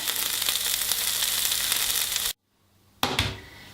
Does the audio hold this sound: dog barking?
no